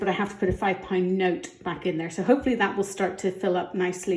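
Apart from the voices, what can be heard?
No everyday noises stand out.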